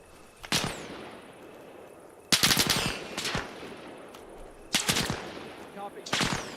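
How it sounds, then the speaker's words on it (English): Enemy gunfire in the military video game Arma Reforger: several loud bursts of automatic fire and sharp single shots, coming in clusters with brief quieter gaps between them, with no voices over the shooting. "Oh, they already started shooting at us."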